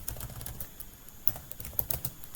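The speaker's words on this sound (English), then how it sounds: "let me type here something" Fingers type on a computer keyboard, producing quick, irregular clusters of close, crisp key clicks with short pauses between bursts.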